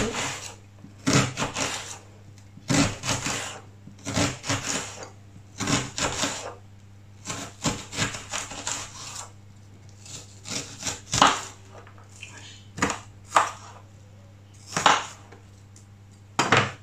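A knife chops a large onion into small pieces, a close series of sharp wooden knocks in quick bursts with short pauses between them.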